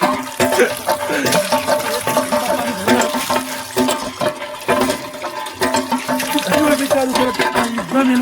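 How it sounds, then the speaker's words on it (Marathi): Water runs from a hand pump in an outdoor setting, a rushing, gurgling flow with repeated surges that rise and fall in rhythm with the pumping, loud and close throughout. "तर आता हापशी त्यात हे चालू केलं मी"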